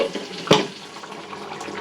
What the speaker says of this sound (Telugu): ఒక గ్లాస్ వరకు నీళ్ళు వేసేసానండి